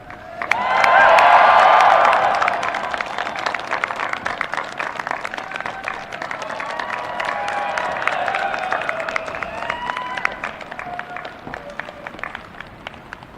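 Applause at a US Air Force Academy graduation, a loud burst of clapping and cheers from a crowd that swells, fades, then rises again more softly and thins out toward the end.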